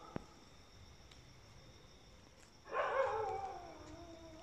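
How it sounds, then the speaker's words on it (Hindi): Dogs bark and howl at night in a reputedly haunted village, heard from a distance: mostly quiet for a while, then a swelling, sustained howl rises and trails off, moderately loud over a faint background. "इधर से बहुत आवाज आ रहा है कुत्ते को"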